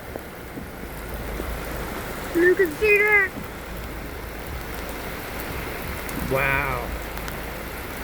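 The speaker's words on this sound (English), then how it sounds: "And it is pouring rain." Heavy pouring rain during a thunderstorm at sunset, a steady dense hiss throughout, with people exclaiming and talking over it.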